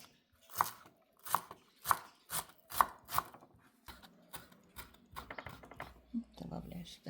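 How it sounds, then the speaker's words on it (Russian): A knife chops fresh dill with thick stems trimmed off on a cutting board, giving a run of sharp, evenly spaced close taps that later turn quicker and lighter, with a voice speaking briefly near the end. "И начинаем резать."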